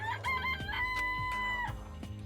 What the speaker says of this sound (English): Oh, you like chickens too, Makoto?